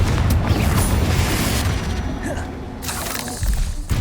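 A Confringo fire spell goes off in Hogwarts Legacy, a deep booming burst with crackling debris that runs steadily for about four seconds, with a few sharp pops near the end.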